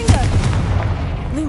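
A Confringo blasting spell goes off in Hogwarts Legacy, a loud, continuous booming rumble with crackling energy that fills the whole moment, with a voice and a faint tonal chime layered over it.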